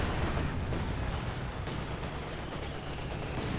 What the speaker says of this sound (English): I hear a Panzer for Barrage raining somewhere